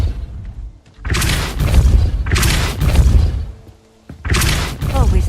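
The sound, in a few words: Depulso spell blast in video game Hogwarts Legacy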